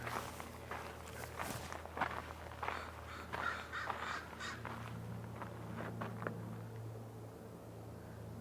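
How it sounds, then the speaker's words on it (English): Several crows caw at a distance over a steady low outdoor hum at a marsh, with soft footsteps crunching along throughout. "Lots of crows."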